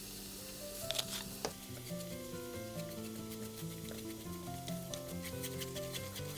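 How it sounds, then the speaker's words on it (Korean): Chili powder and garlic fry in a pan with a soft, continuous sizzle, faint scraping and stirring noises, and a few brief clinks, while gentle background music plays underneath. "마늘 향을 내어 고춧가루를 볶습니다"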